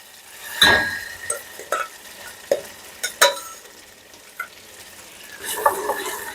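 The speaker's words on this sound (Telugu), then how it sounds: "ఆ తాళింపు వేస్తాను నేను" Tadka tempering for dal crackles in a pan as a series of sharp, scattered pops and clinks over a quiet sizzle, each burst brief and close.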